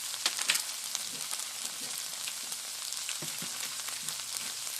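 Tortilla chips tossed into a small frying pan of cooking migas sizzle steadily, a dense crackling hiss with scattered pops across the whole stretch, no voices.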